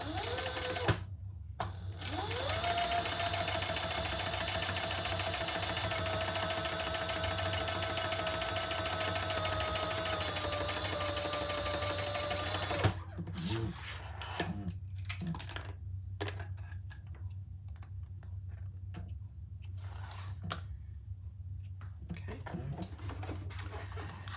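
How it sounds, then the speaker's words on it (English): A sewing machine runs steadily for about twelve seconds, top stitching the back panel of a crossbody bag with a slip pocket hanging down, then stops, leaving scattered handling clicks and soft rustling. "now we're going to top stitch our back with the slip pocket hanging down"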